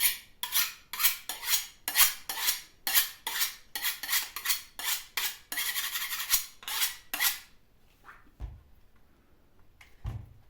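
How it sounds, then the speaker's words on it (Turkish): An old, dull kitchen knife handed down from a grandfather is sharpened with a rapid run of about a dozen harsh rasping strokes, close and loud, then a pause broken by a couple of dull knocks. "şu benim dededen kalma bıçağımı birazcık keskileteyim"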